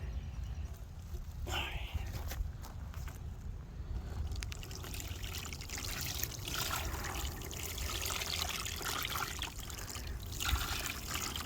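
Sugar water trickles and pours steadily into a bee feeder nearby, a soft running splash with faint rustling and bumps in the background.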